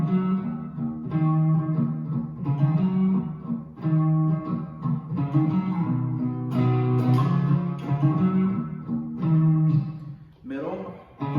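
An Ibanez AM73B guitar on its neck pickup plays through a slightly dirty Fender Twin Reverb amp model, with sustained overdriven notes and chords ringing steadily and close for about eleven seconds.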